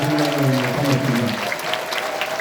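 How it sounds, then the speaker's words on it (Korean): A crowd at a public civic event in Gyeyang district applauds steadily to welcome the district head, a dense wash of clapping that holds its level throughout, with a voice briefly audible at the start. "윤환 구청장님을 뜨거운 박수로 환영해 주십시오."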